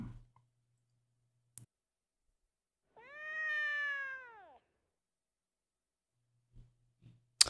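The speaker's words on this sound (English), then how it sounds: "Why when there's clearly two sounds here, would they only use meow?" A single drawn-out cat meow from the video game Legend of Sword and Fairy 5 Prequel, clear and isolated in near silence, bracketed by faint clicks.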